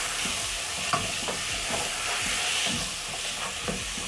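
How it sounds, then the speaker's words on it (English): Tomatoes and carrots frying in a pot with seared beef, stirred by a spoon in repeated scraping strokes over a steady, close sizzle. "Then I'm going to stir in. Add in my tomatoes."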